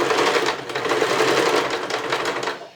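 A sewing machine runs continuously at close range, stitching a backstitch in a fast, even mechanical rattle of needle strokes that slows and stops at the end.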